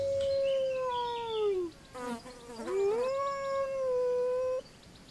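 A wolf howls in the survival video game Die Young: a long, loud, wavering howl, briefly broken and then resumed, heard alone.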